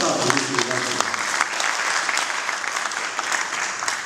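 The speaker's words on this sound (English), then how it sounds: "Please, help me to give a round of applause to our staff in this university." An audience at a university convocation claps for the university staff, dense sustained applause filling the whole stretch with some voices mixed in.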